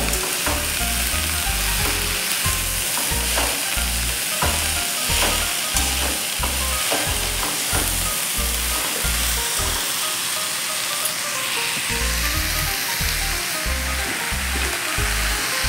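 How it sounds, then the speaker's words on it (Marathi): Amaranth greens sizzle loudly in a pan while a utensil scrapes and stirs them in a steady, rapid rhythm, broken by one brief pause. No voices are heard. "हे छान असे मिक्स करून घेऊयात।"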